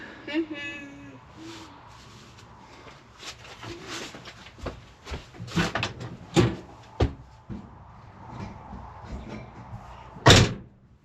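A child repeatedly opens and closes cupboard doors inside an old retired ambulance, a series of irregular thumps and clunks, with one loud slam near the end and a voice talking faintly.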